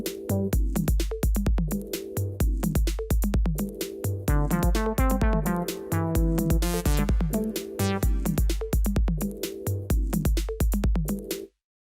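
Roland MC-101 groovebox plays back a clip in triplet note values: a dense electronic beat with punchy kick, clicky percussion and synth tones, loud and steady, with a rising buzzy fill midway before it stops abruptly.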